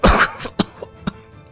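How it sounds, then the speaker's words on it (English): A wounded officer, impaled by a vine, lets out a harsh burst of coughing followed by a few short, wet hacks and throat-clearing sounds, close and isolated. "The officer can only cough up blood in response."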